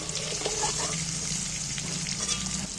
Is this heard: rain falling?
no